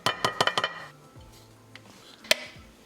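Almond flour scooped from a grinder jar: a quick series of sharp clinks as a spoon strikes the jar, then a quiet scrape and one final bright knock.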